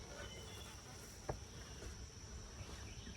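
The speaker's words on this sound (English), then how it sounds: "There's one little bee there." Honeybees buzz around an open backyard hive, a faint, steady insect drone with a high whine running through, plus a brief close tap or click, all quiet and without voices.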